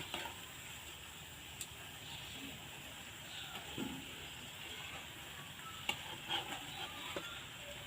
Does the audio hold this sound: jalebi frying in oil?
yes